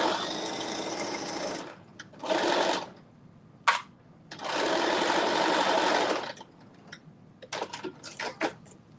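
A sewing machine stitches around a crotch seam on a McCall's M8208 garment, running in several bursts of steady whirring with short pauses and light clicks between them, fairly close and with no talk.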